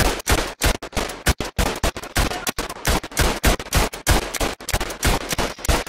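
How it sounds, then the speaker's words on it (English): Rapid machine gun bursts rattle loud and close in the World War I shooter Battlefield 1, a dense, continuous stream of sharp reports with brief gaps between volleys. "Now using the machine gun again."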